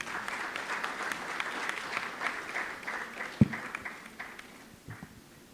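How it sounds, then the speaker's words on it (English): Applause from a conference audience at an energy forum in Ghana, a sustained, moderately distant crowd clapping that slowly fades, with a sharp thump partway through. "Please, let's applaud them once again."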